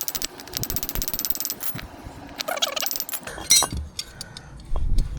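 Hammering a bearing into the sprocket carrier of a BMW F800GS motorcycle, a series of sharp metallic taps and clinks at close range, irregular in rhythm, with a few louder knocks toward the end.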